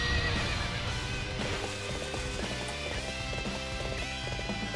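A horse in the video game Dynasty Warriors 7 neighs and whinnies over galloping clip-clop hoofbeats, mixed with game music and battle ambience, loud and continuous.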